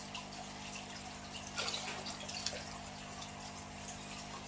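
Water being poured into a small 40-litre fish tank, a soft steady trickle and splashing with a slight surge midway, close and fairly quiet.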